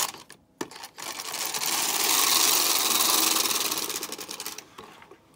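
Carriage of a knitting machine passing across a row during short-row shaping of sweater shoulders, a steady close mechanical whirring and clattering that swells and fades over several seconds, with no talk.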